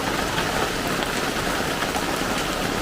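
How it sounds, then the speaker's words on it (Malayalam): Steady, dense rainfall pours down nearby, a continuous even hiss of drops on surfaces with no breaks. "മഴ"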